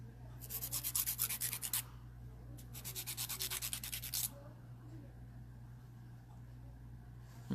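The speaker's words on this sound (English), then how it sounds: "Gonna round out the edge a little bit, so that way it's not so hokey pokey." A hand file rounds off the edge of a long gel nail, giving two runs of quick back-and-forth scratchy rasping, close and fairly faint, with a short pause between them and then quiet.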